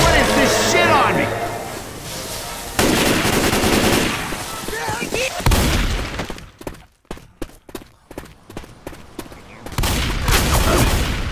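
Auto shotgun fire in Left 4 Dead 2 comes in dense, loud bursts of blasts, including a rapid stuttering run of separate shots, mixed with zombie-game chaos and voices talking throughout.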